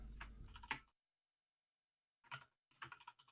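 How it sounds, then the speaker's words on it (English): Someone types on a computer keyboard in quick bursts of clicking keystrokes, fairly faint and close, broken by a silent pause before the tapping resumes. "Oh, he's typing."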